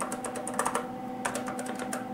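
Typing on a Wangwriter computer keyboard with many dead keys, a quick irregular run of clicking keystrokes close up, steady and without talk.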